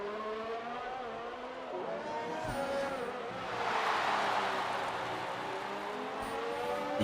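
F1 car engine on a flying qualifying lap in an F1 video game at the USA circuit, a high, rising and falling whine with gear-shift steps, steady and moderately loud throughout, no talk.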